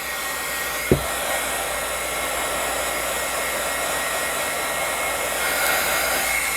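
Hair dryer blowing steady hot air on a glued deck of cards held tightly together, a loud continuous whooshing drone with a single sharp knock near the start, no speech.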